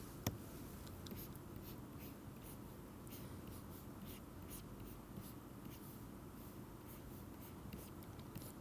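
Graphene hexagons being drawn on a board, quiet repeated scratchy strokes at an irregular rhythm with a sharp tap near the start and no talk.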